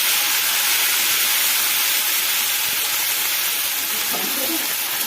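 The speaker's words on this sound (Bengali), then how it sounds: "এবার আমি এই পেঁয়াজ বাটাটা দিয়ে দেবো।" Onion paste, with nigella seeds, green chilli and chopped garlic, frying in hot oil for kochur loti with hilsa head, a loud, close, continuous hissing sizzle with a brief stirring scrape near the end.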